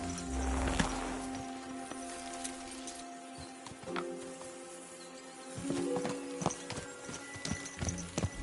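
Horse hooves clip-clop in a steady walking rhythm in the video game Kingdom Come: Deliverance II, close and clear over a soft outdoor ambience, with a brief heavier thump early on.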